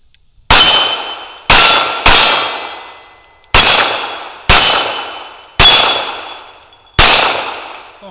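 A Smith & Wesson 617 revolver fires seven shots in an uneven rhythm, each a sharp report followed by a ringing clang off a steel target. The sound is loud and close, with each ring decaying before the next shot.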